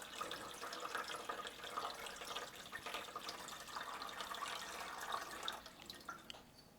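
Water pours into the reservoir of a Letpot hydroponic system, a faint continuous trickling and splashing that holds steady, then eases slightly toward the end, with no voices.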